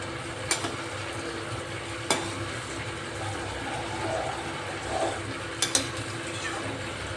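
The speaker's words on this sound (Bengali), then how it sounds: "এবার আমি ভেজে রাখা চিংড়ি মাছগুলো দিয়ে দেবো। একটু নাড়াচাড়া করে নিই।" Fried prawns are stirred into a simmering jackfruit curry, giving a soft continuous bubbling and sizzle with a few sharp scrapes and knocks of the spoon against the pan.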